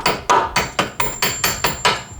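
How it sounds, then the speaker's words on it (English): Steady metallic hammer blows knocking a bolt out of a Hyundai Veloster N rear upper control arm during an SPL arm installation, nine evenly spaced sharp strikes, close and loud with no talk. "Need to hammer this out a little bit to get the bolt out."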